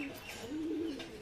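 A desi Giribaj pigeon from Murshidabad utters a single drawn-out, wavering coo close by, rising and falling over about a second against a quiet backdrop.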